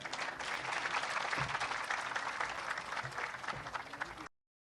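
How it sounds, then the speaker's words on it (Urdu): A crowd at an inauguration and groundbreaking ceremony in Pakistan applauds Prime Minister Shehbaz Sharif, steady, dense clapping at moderate loudness that cuts off abruptly near the end. "اور اب آپ سب کی تالیوں میں, بھرپور تالیوں میں, محترم وزیر اعظم میاں محمد شہباز شریف صاحب"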